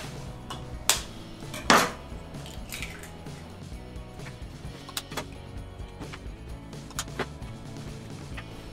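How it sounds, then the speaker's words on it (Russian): Kitchen clatter with a few sharp cracks and taps as eggs are broken, followed by wet squishing and light clinking of a bowl, close by with no talking. "Теперь разбиваем 3 яйца."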